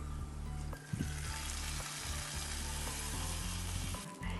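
Hot golden tempering is poured into fish curry, setting off a loud, continuous sizzle and bubbling hiss close by, with a brief clatter near the start and a dip at the end.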